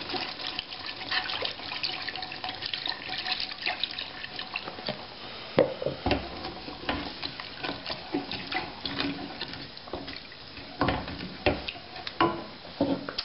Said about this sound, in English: We have 1 pint of half and half that we're going to stir in.